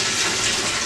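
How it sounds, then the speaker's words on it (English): Water draining out of a frog terrarium, a close, loud and steady rushing flow that continues without a break and without voices. "now I'm draining it again."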